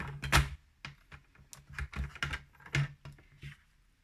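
A Hobbycraft paper trimmer makes a run of sharp, close clicks and snaps at an irregular tapping pace as the blade slides and cuts the paper, with a few louder knocks among them.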